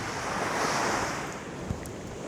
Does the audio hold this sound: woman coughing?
no